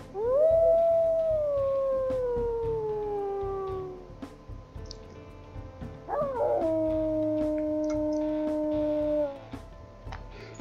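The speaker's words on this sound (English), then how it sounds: "she's got 2 different howls" Two long wolf howls from the video game WolfQuest, the first gliding slowly downward, the second rising sharply then holding steady, both clear and close with a faint background hum.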